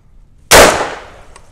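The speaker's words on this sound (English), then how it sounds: "we're gonna try it out of my Havoc, the Spikes Tactical 37 millimeter flare launcher" A Spikes Tactical 37 mm flare launcher fires a single sharp, loud report that decays over about a second, alone with no talk.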